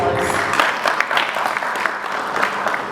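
A crowd applauds at a sports innovation event in Karachi, producing a loud, dense wash of clapping, with voices mixed in throughout.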